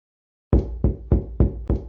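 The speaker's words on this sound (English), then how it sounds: "I carried on with my thudding until my hands hurt." Five heavy knocks from hands pounding on a door, spaced in a steady rhythm after a moment of silence, loud and close.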